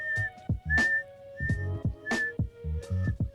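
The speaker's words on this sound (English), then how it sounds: "try to do that Ralik whistle." A beatboxed pattern mixing a bright, sustained whistle tone with punchy kick and snare sounds in a repeating rhythmic loop, close and clear.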